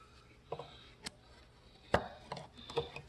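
Knife carving wood for a kuksa cup: sparse, sharp cutting strokes, about six irregular scrapes and chops at close range over quiet background.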